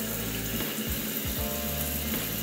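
Hot water runs from a tap onto frozen galunggong fish to thaw it, a steady close pouring and splashing with brief gurgles.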